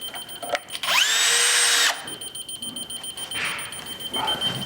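A cordless power drill driving a screw into a pocket door frame, one loud, close burst of rising motor whine lasting about a second, followed by quieter handling noises and faint shuffling.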